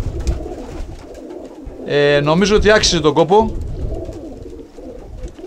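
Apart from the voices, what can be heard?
pigeons cooing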